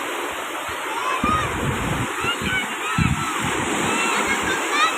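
Sea waves on a beach at Agatti wash and splash in broad bursts while children play in the surf with thermocol floats, with steady wind noise and brief faint voices in the background.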